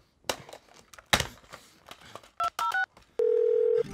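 Telephone keypad tones while calling someone, a few short handset clicks and rustles followed by several quick dial beeps and then a sustained steady tone, close and alone with no speech.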